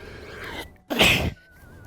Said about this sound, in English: I'm gonna sneeze again, so watch out.